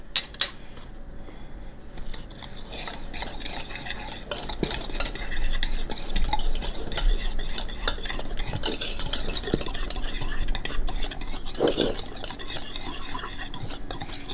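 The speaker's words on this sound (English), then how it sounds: "So I'm going to put a teaspoon of my baking cocoa into here. I'm going to stir that up" Baking cocoa is stirred into chocolate keto muffin batter in a bowl, heard up close as continuous scraping and swishing, with light clinks of a spoon against the dish and no talk.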